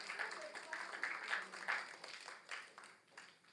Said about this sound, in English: please give a round of applause to the people that gave us all this support